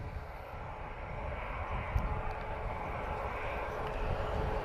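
A KLM airliner departing Lisbon Airport, its jet engines giving a steady, broad roar that holds at an even level throughout without fading.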